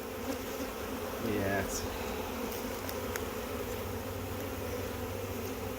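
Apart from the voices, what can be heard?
honeybee swarm buzzing on a fence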